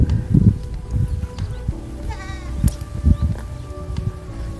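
Free-range dairy goats, including a resting Saanen, bleat a few times close by, with short wavering calls between soft shuffling and low farmyard background noise.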